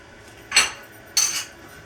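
A lid settles onto a pot of prawn pulao with two short metallic clinks about half a second apart, fairly close and otherwise quiet.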